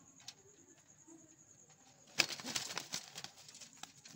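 Pigeon being grabbed by hand, a short burst of wing flapping and fluttering close by after a quiet stretch with faint cooing, soft and low in level.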